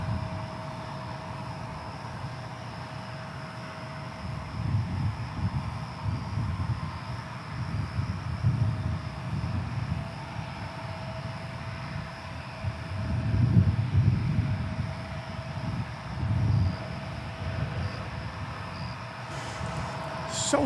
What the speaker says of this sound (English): So there you go, a successful launch of a 747 cargo.